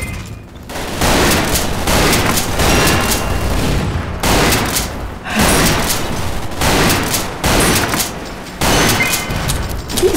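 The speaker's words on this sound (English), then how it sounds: "I shot him 3 times!" Rapid bursts of video game gunfire from an action shooter, loud and dense, with volleys of shots repeating in waves for ten seconds and no talk over them.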